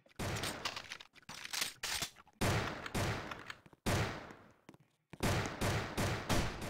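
Heavy gun in a video game firing in loud repeated bursts, each rapid volley broken by short pauses, close and harsh with no talk over it.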